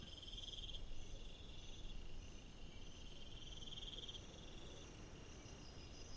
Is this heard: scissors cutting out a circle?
no